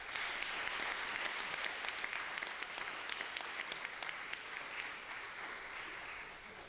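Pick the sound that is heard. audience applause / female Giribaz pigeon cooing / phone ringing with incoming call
audience applause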